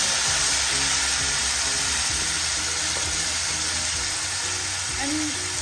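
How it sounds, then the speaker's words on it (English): Tomatoes added to a hot pan of frying garlic and whole spices over high flame, a dense, continuous loud sizzle with faint stirring clatter underneath. "And then to this, not to burn the garlic, I add the tomatoes."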